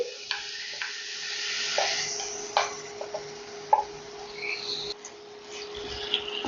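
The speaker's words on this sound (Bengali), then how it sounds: "ম্যারিনেটেড চিকেনটা আমি স্টার ফ্রাই করছি এবং এটা অবশ্যই হাই ফ্লেমে করতে হবে" Marinated boneless chicken stir-frying in hot oil over high flame, a steady soft sizzle under repeated clicks and scrapes of a spatula against the pan, close and fairly quiet.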